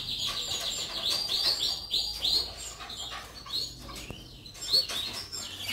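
Canary chicks chirp in an outdoor aviary, a busy stream of repeated high peeping calls from several birds at close range, steady and overlapping throughout.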